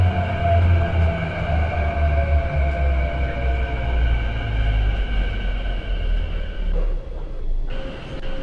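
A simulated MTR Kwun Tong line Q-Train arriving in the Hmmsim 2 train game gives a steady, loud low rumble with sustained motor whine tones throughout, dipping briefly near the end.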